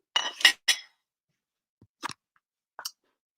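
Pyrex glassware clinks in a warehouse, three bright chimes in quick succession followed after a pause by a few lighter taps, close and clear with no talking.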